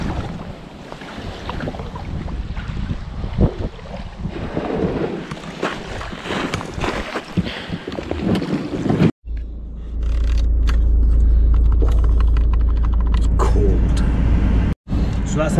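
Strong wind buffets a kayak being paddled on Loch Lomond in winter, roaring against the microphone in heavy gusts. Someone talks over the first half before the wind takes over as a loud, steady rush.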